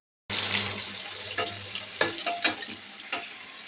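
Mustard seeds crackle and sizzle in hot oil for chitranna, a close steady frying hiss punctuated by sharp popping bursts.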